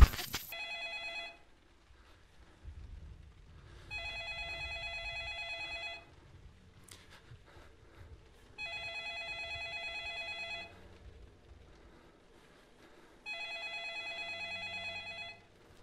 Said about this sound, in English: Where the phone at?